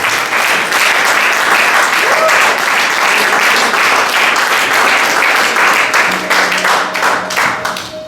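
A church congregation applauding loudly to acclaim God, dense sustained clapping from many hands filling the room, with voices shouting over it and tapering slightly at the end.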